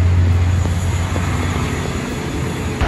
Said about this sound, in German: Halleluja, es gibt endlich mal ein neues Flugzeug.